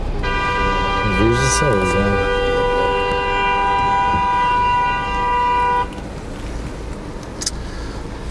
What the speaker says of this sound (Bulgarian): Е, сега с клаксоните.